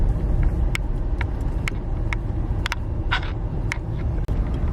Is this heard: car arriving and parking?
yes